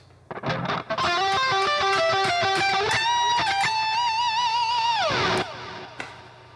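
A distorted electric guitar plays a quick run of notes from a solo, then holds a bending, sustained tone that slides down before fading out.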